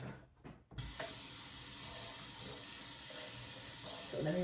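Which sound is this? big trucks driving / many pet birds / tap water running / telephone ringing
tap water running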